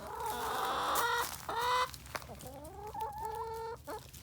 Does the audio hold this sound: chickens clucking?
yes